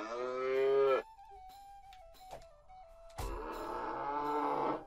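Two long, deep moos from zombie cows in the video game South Park: The Stick of Truth bracket a quieter stretch of thin tones and clicks, the lowing loud and close with a drawn-out, groaning quality.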